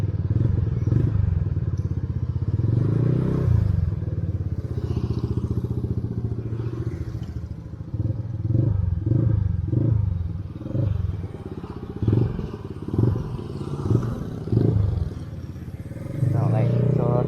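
A Yamaha Nmax v2 scooter with a check-engine fault and a dead speedometer runs on a test ride, its engine droning steadily with clattering bumps and road noise while someone talks over it.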